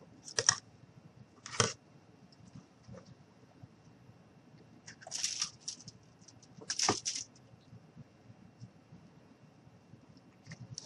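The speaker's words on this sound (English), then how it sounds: "I'm going to grab my scissors and we're just going to cut the extra off." Scissors snipping off excess material while making a cowboy craft gnome, a few short, crisp cuts spaced apart, close and fairly quiet against a still room.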